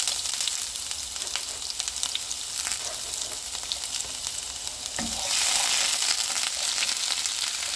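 Garlic and ginger fry in hot cooking oil with a steady bright sizzle and crackle that grows louder partway through as more goes into the pan, close and continuous.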